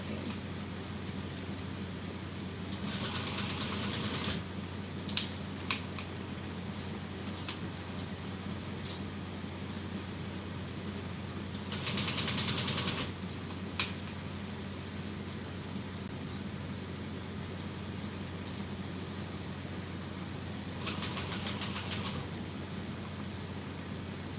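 A sewing machine stitching an 80% Erica Bowler Bag runs in three short bursts, separated by long pauses with a low steady hum in the room.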